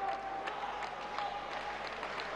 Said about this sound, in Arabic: وادي الجماهير الصربيه البوسنيه اللي بتشجع فريق فويفودينا